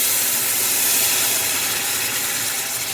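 Seasoned seafood broth pours into a hot pan of quinoa with a loud, steady sizzling hiss that holds for the whole stretch, close by and with no voices.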